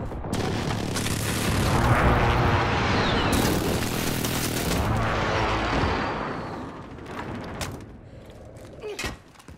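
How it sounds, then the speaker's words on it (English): Precision airstrike in Call of Duty: Modern Warfare, a long roaring wave of heavy booming explosions that swells and rolls for several seconds, then fades into scattered sharp impacts, no talking. "friendly precision airstrike inbound"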